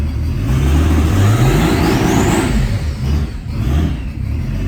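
Nissan 280ZX engine running as the car drives off, a loud close rumble that rises and falls as the throttle opens, with a whirring drone and no voices.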